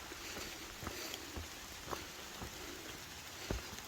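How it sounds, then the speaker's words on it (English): Steady light rain falling on a mountain trail on the Appalachian Trail near Killington, a faint continuous hiss with scattered soft drop ticks, no talking. "it started raining"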